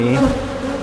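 Honeybees buzz at a hive with newly hatched bees emerging, a close, continuous droning hum with shifting pitch and no pauses.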